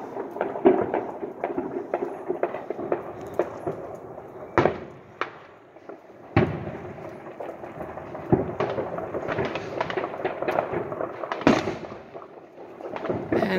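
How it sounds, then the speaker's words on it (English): Sharp bangs of gunshots and fireworks crack out at New Year's midnight, some single and some in rapid bursts, going off near and far over a steady crackling din that runs throughout. "if you think you're hearing a lot of actual guns, you are hearing a lot of actual guns"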